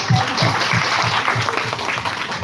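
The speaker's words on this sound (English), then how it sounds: "Applause for the future of India." Audience applause at a book launch in India, a brief burst of steady clapping from a nearby crowd with faint voices mixed in.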